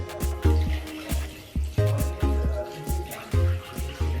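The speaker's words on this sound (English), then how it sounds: "First we are going to put some water." Water pours into a Vinator bottle sanitizer bowl in rhythmic gushes, each burst a sharp onset followed by a splashing fill, repeating about every half second with a clunky plastic pump-like rhythm, close and fairly loud.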